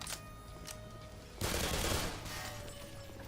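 Gunfire in the video game Black Mesa: a dense, noisy burst of shots roughly a second long in the middle, with quieter game ambience before and after and no speech.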